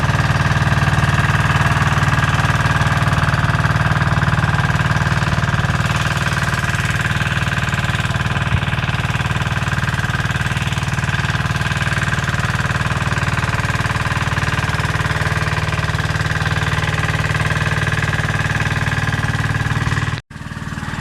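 An irrigation pump engine runs steadily and loudly close by, throttled up in a field, with a constant droning hum that cuts off abruptly near the end.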